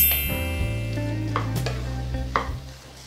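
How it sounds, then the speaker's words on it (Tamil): Egg and chayote (chow chow) fry over a high flame as a spatula stirs them in the pan. A close sizzle runs throughout, with a few scraping stirs over a steady hum. "இப்போ ஃப்ளேமை அதிகமாக வச்சுக்கிட்டு நல்லா கிளறுங்க."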